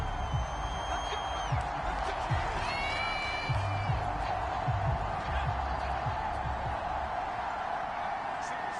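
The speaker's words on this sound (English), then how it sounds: "Plenty of shouts from this crowd as they watch the replay." A stadium crowd in the Madden 22 football video game keeps up a steady, distant roar with scattered shouts and whoops, while a commentator talks over it throughout.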